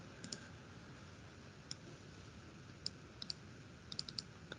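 Computer keyboard typing during a lesson on desktop publishing software: faint, sparse key clicks, some single and some in quick little clusters, against a quiet room hiss.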